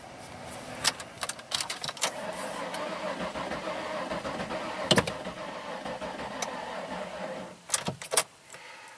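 A Ford Escape with a jump pack hooked up fails to start: faint clicks and short rattles sound in bursts, but the engine never catches or turns over, all quiet and close.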